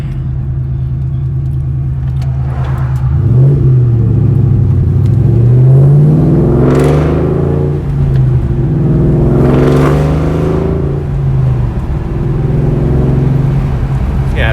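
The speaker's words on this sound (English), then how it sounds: "It's that crackle, that echo of the exhaust." A 2004 Ford Mustang Cobra rumbles along while driving, its exhaust rising and falling in pitch with a raspy, crackling edge as it revs through gears, loud and close.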